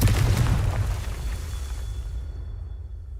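A single Confringo blasting-spell explosion in Hogwarts Legacy, a deep booming burst that fades out over about two seconds into near silence.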